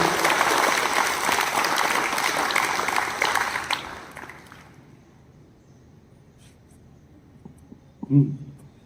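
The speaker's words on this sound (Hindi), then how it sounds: "तो उनके लिए भी एक बार जोरदार तालियां बजाइए ध्यानचंद जी के लिए।" Loud, dense audience applause at a National Sports Day event fills the first four seconds, then tapers off into a quiet room, with a brief louder sound near the end.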